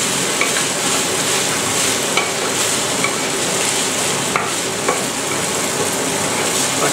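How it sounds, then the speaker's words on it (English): Rice frying in a pan with sweet red pepper, a steady loud sizzle with occasional scrapes and clicks of stirring, heard up close with no talking. "I'll bring it to a nice sizzle."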